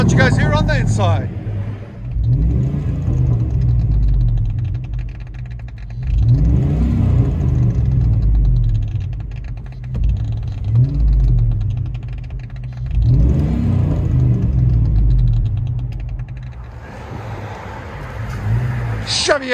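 A Chevy Avalanche 5.3L V8 truck with a Flowmaster Super 10 exhaust revs repeatedly, deep rumbling swells rising and falling over a low idle, with occasional talking.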